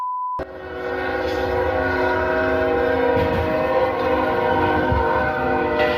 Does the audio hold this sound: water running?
no